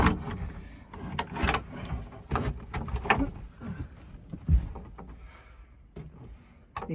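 A caravan's sliding door rolls and bumps along its track, giving a series of nearby scraping clunks and rattles with a sharp knock midway, no talk over it.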